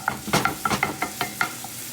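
Ground meat, seasoned with salt and pepper, stirred and broken up in a frying pan, with a sizzling bed under about eight close, sharp scraping strokes of a utensil.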